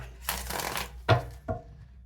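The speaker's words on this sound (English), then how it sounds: "One more good shuffle." Cards being shuffled in a long riffling burst, followed by two short sharp snaps of the deck, close up with no talking.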